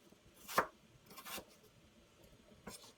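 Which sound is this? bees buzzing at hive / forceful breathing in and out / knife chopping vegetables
knife chopping vegetables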